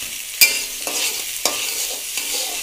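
Potatoes and a fish head fry in a pan, with a close, steady sizzle broken by several sharp clinks and scrapes of a utensil stirring.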